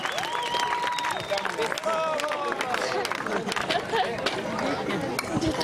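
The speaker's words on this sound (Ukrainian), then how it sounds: "Аплодисменты от вас, Вадику." An audience at a Pokrova festival in Alicante applauds a prize winner. Scattered clapping blends with lively crowd chatter and overlapping voices.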